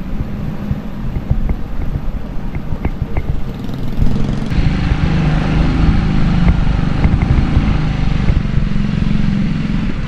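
Motorized tricycles run on a residential road. The engine drone is continuous and close, with some wind or road noise, and it gets denser and louder partway through. No one speaks.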